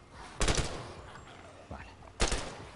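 Gunfire sounds in the video game The Last Stand: Aftermath, as two separate short, loud bursts of rapid shots arrive a couple of seconds apart over low background ambience.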